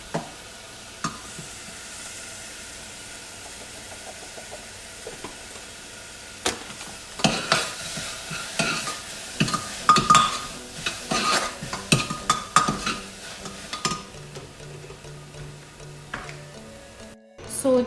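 Chickpeas for chana fry in a pan and are stirred, producing a quiet sizzle and then a run of irregular, close scraping and clattering strokes.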